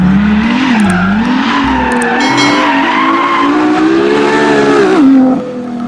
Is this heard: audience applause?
no